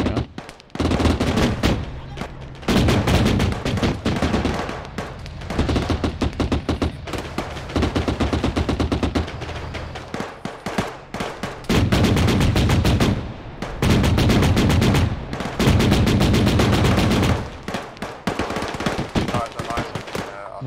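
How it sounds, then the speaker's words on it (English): Sustained machine-gun and rifle fire from an ARMA 3 military battle, dense rapid bursts filling most of the stretch with a few brief pauses, loud and close, with occasional voices underneath. "What is he shooting at?"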